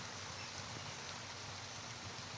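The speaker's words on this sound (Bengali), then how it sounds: "অলরেডি শঁচা করে আওয়াজ হচ্ছে জোর বৃষ্টি নামছে" Heavy rain pours over a fish pond, a steady, even hiss of dense falling water that stays faint and distant throughout, with no voices.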